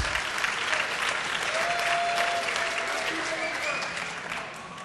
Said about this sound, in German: Dann haben wir einen kleinen Applaus